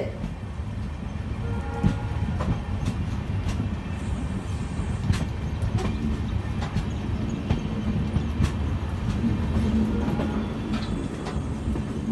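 Inside the Tambaram–Sengottai Super Fast Express running on its tracks, a steady low rumble continues throughout, with faint rhythmic clicks of the wheels and occasional rattles, and no voices.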